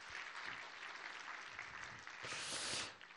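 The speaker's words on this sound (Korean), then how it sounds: "우리 힘내시라고 한번 격려의 박수" A church congregation claps steadily through a Sunday evening worship service in encouragement of a visiting elder, the dense applause swelling louder toward the end before tapering off.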